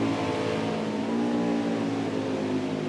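Toyota stock car in an Xfinity road-course race at Mid-Ohio runs steadily down the backstretch, its engine holding a loud, sustained drone at high revs with no break across the moment.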